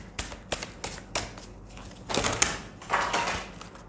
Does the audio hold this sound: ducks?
no